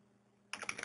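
Quick keystrokes on a computer keyboard, a short cluster of several crisp clicks close to the mic after a moment of quiet, with no talking.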